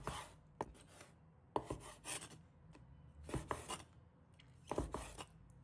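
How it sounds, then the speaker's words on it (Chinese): A knife slices squid into small pieces on a cutting board, giving bursts of close, rasping chops separated by short quiet gaps. "然后把它切成小块，大小可以根据个人喜欢来切。"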